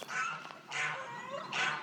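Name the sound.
poultry calling nearby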